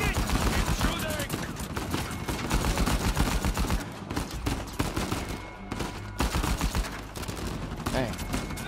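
Dense, continuous gunfire from a firefight in the video game Uncharted 4, a loud rattling barrage of rapid shots with voices shouting over it.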